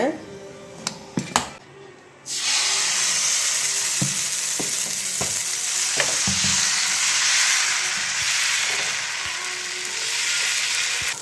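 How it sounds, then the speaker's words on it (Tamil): Dosa batter made from soaked, well-fermented Mappillai Samba rice hits a hot pan and settles into a steady, loud sizzle after a few light clinks and taps, with soft frying crackle running continuously throughout. "நம்ம இப்போ தோசை ஊற்றிடலாங்க"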